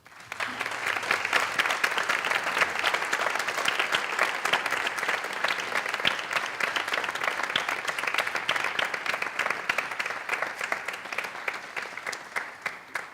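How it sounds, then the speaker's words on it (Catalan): Loud, sustained applause from a concert audience at a university cultural association's band concert, many hands clapping continuously and evenly for the whole stretch. "A tots ells demane un fort aplaudiment."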